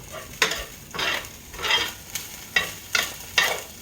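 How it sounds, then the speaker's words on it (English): Ground beef for Coney sauce, 85/15 hamburger, sizzling in a pan while being stirred, with a soft frying hiss under regular scraping strokes that recur about every half second. "So I got my ground beef cooking right here."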